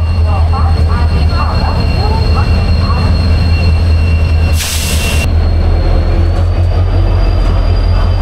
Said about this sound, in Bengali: আমাদের ট্রেন কিন্তু চলে এসেছে হাওড়া স্টেশনের 22 নম্বর প্ল্যাটফর্মে।